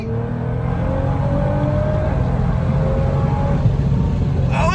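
A boosted 600 HP Nissan GT-R with all-wheel drive pulls hard on twisty roads, its engine roaring loud and steady from inside the cabin with rising whine.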